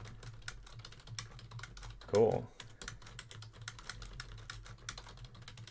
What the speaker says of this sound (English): I'm typing to the admin right now.